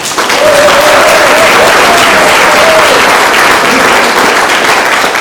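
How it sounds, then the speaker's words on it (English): Loud, dense audience applause at a Lions club awards brunch, a continuous wash of many hands clapping close by, with faint voices murmuring underneath. "Will they give them a round of applause?"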